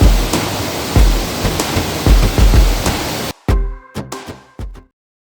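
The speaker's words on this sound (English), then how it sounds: "Guys, I've arrived at the waterfall." Waterfall roaring loud and close as a dense, steady broadband rush, then cutting out abruptly into a few brief separate bursts before silence.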